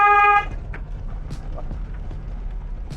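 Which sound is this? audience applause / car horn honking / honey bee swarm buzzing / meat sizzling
car horn honking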